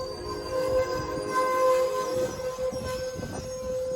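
An Amtrak Surfliner train passes by at steady volume for about four seconds, a continuous rolling rumble of wheels and cars with sustained tonal ringing over it.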